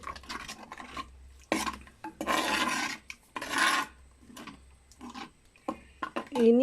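A spoon scrapes and stirs fish curry in a pot in a Kerala kitchen, several bursts of rough scraping and rubbing with short gaps between them and a voice talking in between.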